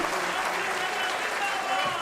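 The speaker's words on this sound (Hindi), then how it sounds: "इन सैनिकों के आप भाई तालियां बजाकर स्वागत जरूर करें प्लीज़" An audience at a Congress Jai Hind rally applauds in welcome of Indian Army soldiers, a dense continuous wash of clapping heard fairly close and steady throughout.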